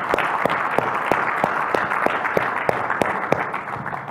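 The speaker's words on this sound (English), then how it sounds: "let's give a big round of applause for all these speakers and everyone who's made this possible" Audience applause at a conference closing session, steady dense clapping with a few sharper individual claps standing out, moderately loud and sustained for a few seconds without speech.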